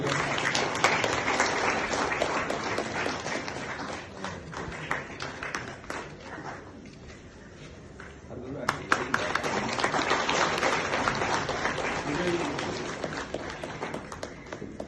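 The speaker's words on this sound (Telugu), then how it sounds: "గట్టిగా క్లాస్ కొట్టి ఎంకరేజ్ చేయాలి" Sustained audience clapping at a retirement function, loud and dense, dipping briefly midway before swelling again with a few sharper nearby claps.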